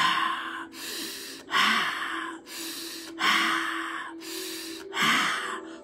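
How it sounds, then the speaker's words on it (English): Slow, deliberate breathing during a guided breathing exercise, close and clear, five or six long rushing breaths in an even rhythm over a faint steady background hum. "Proper breathing."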